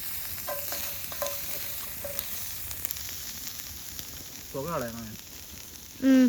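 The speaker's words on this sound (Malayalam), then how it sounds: "ഇത് നല്ല ഫ്രൈ ആയിട്ട് വരുന്നുണ്ട്." Mussels frying in a cast iron pan outdoors, a loud continuous sizzle and crackle running throughout while a person talks briefly over it.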